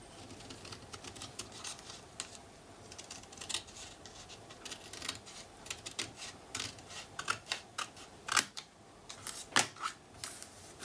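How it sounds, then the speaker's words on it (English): Paper being free-cut with scissors along a marked line, quiet dry snips and rustles in an irregular run, a few sharper crisp cuts near the end, close and fairly faint with no talking. "I'm going to try to stay right on that line with my scissors and free cut"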